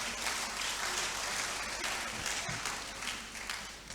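Audience at a university leadership conference applauding, a continuous, fairly quiet wash of clapping heard from a distance and sustained for several seconds.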